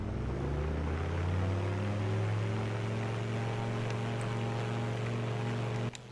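An aircraft engine in Microsoft Flight Simulator throttles up, a steady droning hum with strong low tones that holds evenly, then cuts off abruptly near the end.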